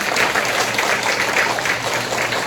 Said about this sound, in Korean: 45년 동안 성령 기도회를 유지하신 여러분들께 스스로를 위해서 박수 한번 쳐주세요